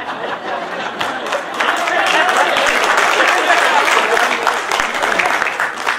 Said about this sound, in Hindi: ये जिन्होंने ताली की शुरुआत की